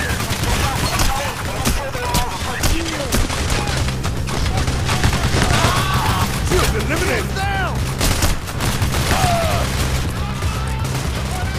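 Constant gunfire during a Payday The Heist bank heist on a bridge, a dense, steady clatter of shots and impacts under a continuous game soundscape, with sporadic chirps and crashes and no clear talk.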